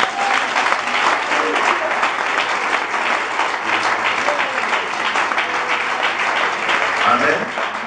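Congregation at a church gathering applauding loudly and continuously, dense clapping filling the whole stretch with a few voices mixed in.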